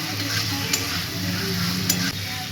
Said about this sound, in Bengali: এবার এর মধ্যে দিয়ে দেবো আলুগুলো।